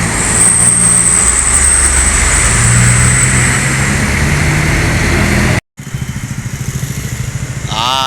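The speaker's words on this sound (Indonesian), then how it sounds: "Ini rombongan kontainer-kontainer dari Pulau Jawa" A convoy of container trucks from Java rolls past at a bus-horn gathering, a loud continuous engine and road roar close by, briefly cut off, then resuming with a rising horn-like tone at the end.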